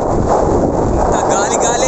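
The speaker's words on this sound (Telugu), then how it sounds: "ఓ గాలి గాలి గాలి," Strong seashore wind at Kanyakumari (Cape Comorin) roars loudly and steadily into the microphone, a continuous close buffeting rush with no break.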